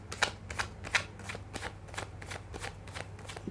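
Tarot cards being shuffled by hand for a reading: a quiet run of soft riffling, slapping bursts about every third of a second, with a steady low hum underneath and no talk.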